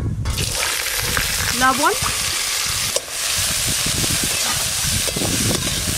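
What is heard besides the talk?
washed sour fruits added to hot mustard oil, sizzling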